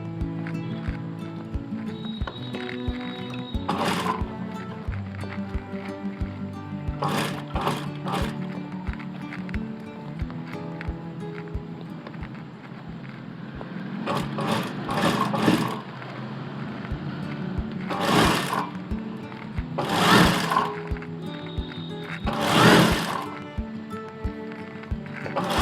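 A sewing machine stitches along the edge of a princess cut blouse, its motor humming steadily under a rhythmic needle clatter, with stops and several louder bursts.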